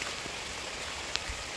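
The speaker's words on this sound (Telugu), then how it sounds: "వర్షం, ఫుల్ వర్షం." Heavy rain falls in Dharamshala, Himachal Pradesh, a steady, even hiss of downpour with one brief splash, no voices over it.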